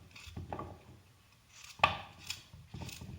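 Peeled potatoes being cut into rough random pieces on a board, a handful of scattered knife taps, soft and close, with quiet gaps between the cuts.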